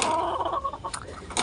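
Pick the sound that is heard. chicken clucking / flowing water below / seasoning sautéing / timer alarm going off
chicken clucking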